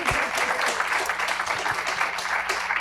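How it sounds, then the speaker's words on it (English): An auditorium audience gives sustained applause for a discussion panel, a steady wash of many hands clapping at moderate distance with no break. "Can we please give them some applause here in the auditorium?"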